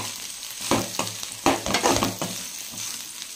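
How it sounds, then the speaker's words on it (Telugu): Broad beans sizzle and fry in a hot pan while being stirred, giving several scraping, clattering stirs over a steady close sizzle. "ఇప్పుడు సాల్ట్ వేసాక కొంచెం కలిపేసి ఇంకొక 2 నిమిషాలు మగ్గనిద్దాము"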